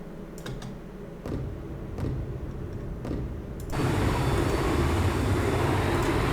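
Military aircraft engine in a naval warfare game, a steady broadband roar that swells louder partway through, with faint tapping like keys over the drone.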